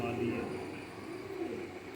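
Low, steady cooing of Rampuri pigeons nearby, a soft continuous murmur with faint voices underneath.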